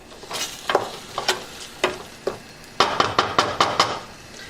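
Onions and garlic cooking in a pan with a soft sizzle under repeated spoon scrapes and taps, quickening into a rapid series of stirring strokes near the end.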